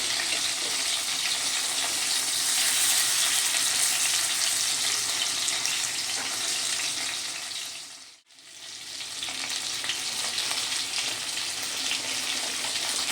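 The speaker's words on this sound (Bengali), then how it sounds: "প্রথমে 2টো মাছ আমি ভেজে নিচ্ছি।" Two tilapia fish frying in hot oil give a steady, dense sizzle that briefly dips to near silence partway through, then resumes at full strength. No one speaks.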